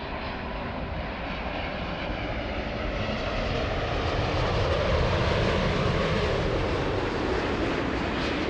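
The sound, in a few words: Boeing 787 airliner at Narita airport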